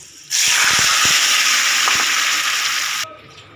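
Hog plums tipped into hot oil set off a loud, hissing sizzle that bursts in abruptly, holds steady for about three seconds, then cuts off, with a few faint clinks beneath.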